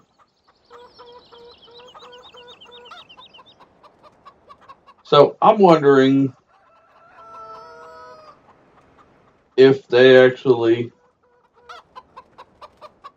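Chicken sounds from Farming Simulator 17 cluck softly in the background, cut by two loud, drawn-out squawks or crows; someone talks briefly over it.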